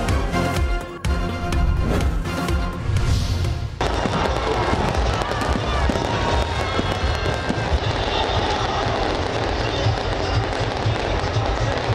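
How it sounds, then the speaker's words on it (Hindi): Fireworks bursting over Pakistani cities, including Karachi, Lahore and Islamabad, during Independence Day celebrations: a dense, continuous wash of crackling, popping explosions that sounds loud and sustained throughout, with no voices. "कराची, लाहौर, इस्लामाबाद समेत मुल्क भर में शानदार आतिशबाजी।"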